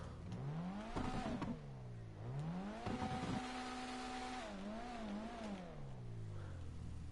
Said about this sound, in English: let's give this a rev. I'll do it inside because it sounds better.